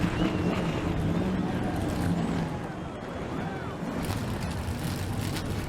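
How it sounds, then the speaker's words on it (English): Race car engines rumble and drone steadily at Pocono in the NNSCRA stock-car racing game, a dense continuous roar with faint revving, loud and close throughout. "The engines are fired here at Pocono"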